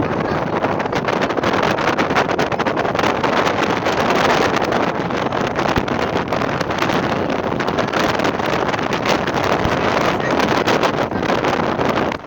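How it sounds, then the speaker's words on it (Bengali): Strong wind roars and buffets the microphone nonstop on top of a vehicle on the road from Cox's Bazar to Sabrang, Bangladesh, a dense, loud rushing with low rumbling gusts throughout. "প্রচন্ড বাতাস ছিল"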